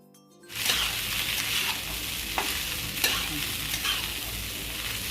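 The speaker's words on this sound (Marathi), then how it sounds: "साबुदाणा तुपावर दोन तीन मिनिट तरी परतायचा" Sabudana stirred and sautéed in ghee in a pan with fried green chillies, a steady close sizzle broken by a few soft spoon scrapes throughout, with no talking.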